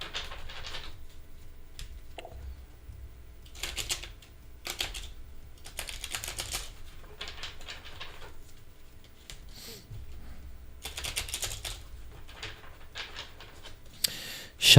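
Tarot cards shuffled for a reading, a soft papery riffling in repeated bursts separated by short pauses, close and fairly quiet, with a brief sharp knock at the very end.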